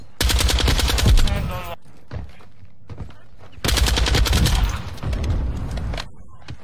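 A Lachmann 762 rifle in Call of Duty MW2 fires two long, loud, close bursts of rapid shots separated by a short lull. Quieter game sounds continue after each burst.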